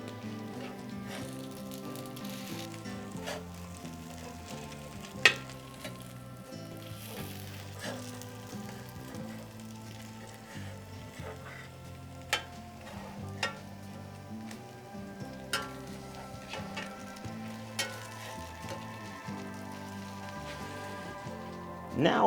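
Potato latkes sizzle and crackle steadily in a hot frying pan, with occasional sharper pops and clinks, continuous throughout and without talking.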